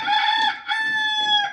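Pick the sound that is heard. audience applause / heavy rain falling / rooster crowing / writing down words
rooster crowing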